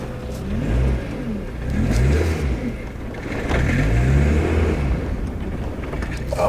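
Mazda Miata with a manual stick shift pulling away, engine revving up and falling back in repeated rising surges as gears change, steady cabin rumble throughout, no talking.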